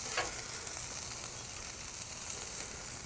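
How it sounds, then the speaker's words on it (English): A Mediterranean grilled cheese sandwich with feta fries in a pan, giving a steady, close, crackling sizzle that stays even throughout with no voices. "We'll get that cooking on one side here, brown a little bit more"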